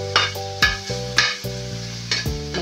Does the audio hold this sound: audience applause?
no